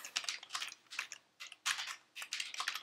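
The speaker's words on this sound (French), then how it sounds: "vous appuyez sur la touche Tab de votre clavier" Computer keyboard keys pressed in quick, uneven bursts of soft clicking, close and fairly quiet, with no talk.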